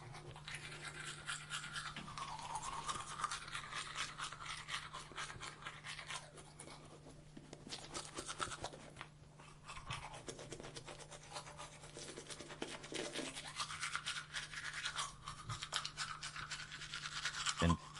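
Steady scrubbing of a toothbrush on teeth, continuous bristly rubbing with slight rhythmic variation over about eighteen seconds, fairly close and alone with no talking.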